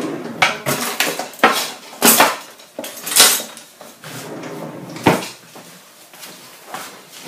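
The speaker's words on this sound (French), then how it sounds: "Je vais remuer un peu." A spoon stirs okra sauce in a metal pot with cold water, before the heat goes on, making loud, close clanks and scrapes in irregular bursts against the pot sides, with no talking.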